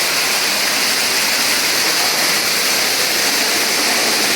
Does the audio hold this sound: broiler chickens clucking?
no